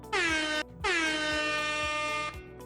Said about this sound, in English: So for example, the air horn.